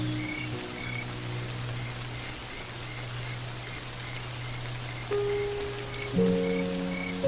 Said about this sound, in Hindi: ये बेमौसमी बारिश बंद होने का नाम ही नहीं ले रही